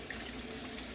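Food cans being rinsed under running tap water in a kitchen sink, a steady, full rush of water close by that continues without a break. No talking is heard.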